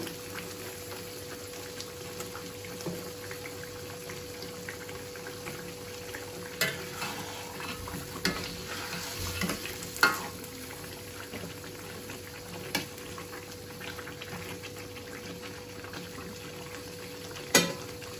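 Fried onions (beresta) stirred into a bubbling chicken roast with potatoes in a pot, a soft steady simmer and sizzle broken by occasional louder clinks and scrapes of a spoon against the pot.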